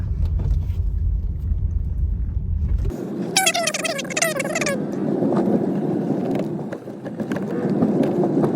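A car engine runs after starting, first a low steady idle rumble, then broader road and cabin noise as the car moves, with a brief tonal sound and faint voices partway through.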